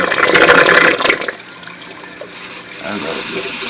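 Water rushes loudly through a hole into a 92-gallon tank, a dense gushing roar for about a second that then settles into a lower, uneven bubbling flow.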